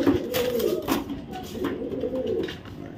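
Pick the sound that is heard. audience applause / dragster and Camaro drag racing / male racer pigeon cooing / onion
male racer pigeon cooing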